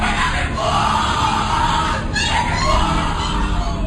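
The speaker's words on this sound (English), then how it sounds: "What you're hearing is the first recording ever made of the Skull and Bones initiation ceremony." Screaming and chanting voices at the Skull and Bones initiation ceremony, a dense, steady wall of shouting and yelling from a group that carries on loud and unbroken throughout.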